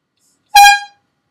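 A single loud blast from an AIR ZOUND high-pressure air bike horn, hand-pumped. The note is bright and brassy, rises sharply, holds briefly, then fades within half a second, with silence before and after.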